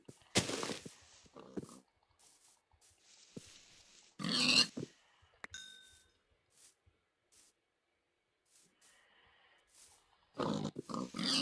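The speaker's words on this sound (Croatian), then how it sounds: "O, svinja. Dođi malo." A Minecraft pig gives several short, soft grunts spread through a mostly quiet stretch, with sparse game sounds and a couple of louder thumps around them.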